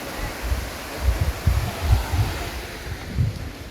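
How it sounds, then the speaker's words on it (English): Steady broadband rush of a waterfall in the Baba Budangiri hills near Chikmagalur, Karnataka, a continuous outdoor roar with low gusty wind rumble and no talking. "So this is the waterfall."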